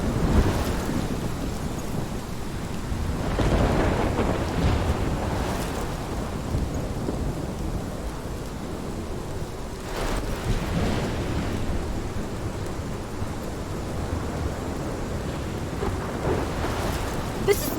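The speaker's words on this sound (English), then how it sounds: "This is my storm." A thunderstorm with heavy rain in the video game Life is Strange: steady downpour throughout, with deep rolling thunder rumbling several times, swelling and fading, no voices.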